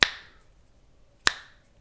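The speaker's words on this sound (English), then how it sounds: "So every time I snap my fingers, another one has died." Two crisp finger snaps, close and sharp, about one and a quarter seconds apart, each decaying quickly into a quiet room.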